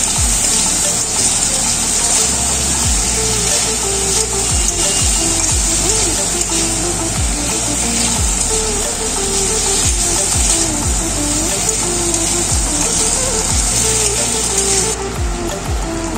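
Poppy seed and cashew paste frying in a pan while being stirred, a steady loud hiss with repeated scraping strokes throughout.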